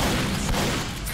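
Gunfire in a shooting video game, a dense, rumbling burst of rapid shots that fills the whole moment, loud and continuous with no talking over it.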